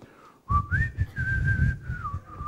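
A person whistles a song melody, a clear sustained tune with gliding pitch changes, close and alone against quiet background.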